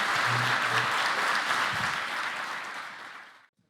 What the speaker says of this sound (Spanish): Los invito a dar un fuerte aplauso a nuestro panel